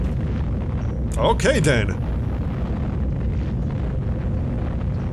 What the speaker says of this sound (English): Oh, he's actually using nuclear missile now.